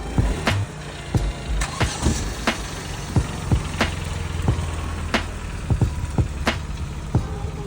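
A BMW car engine idles with a low steady hum close by, broken by a run of sharp clicks and knocks from inside the cabin; no one speaks.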